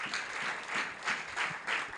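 A church congregation claps together in quick, rhythmic bursts of applause that swell and fade several times, heard from a moderate distance.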